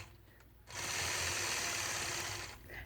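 A sewing machine stitches a quilt block point to point in one steady, quiet mechanical whir lasting about two seconds before it stops.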